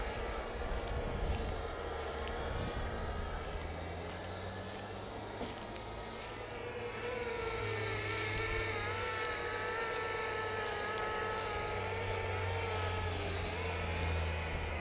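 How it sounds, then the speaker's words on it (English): A small Helifar H816 selfie drone flies outdoors, its rotors giving a steady, high-pitched whine and buzz that stays fairly constant and moderately near, with slight shifts in pitch as it moves. "It's a selfie drone where you have to run to the camera."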